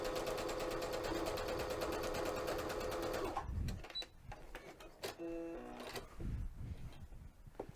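Sewing machine running steadily for a few seconds as it sews quilting stitches with a presser foot, a fast even whirring buzz that stops abruptly, followed by soft clicks and handling noises.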